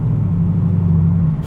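A Ford Mustang V8 with its exhaust valves open gives a deep, steady, loud low rumble that holds evenly throughout, with no voices over it.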